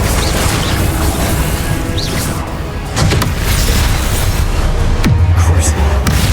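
Glacius and Confringo spell impacts in the Hogwarts Legacy video game: dense, loud crashing bursts and booming hits overlap with a steady game backdrop, with a sharp swelling impact near the end.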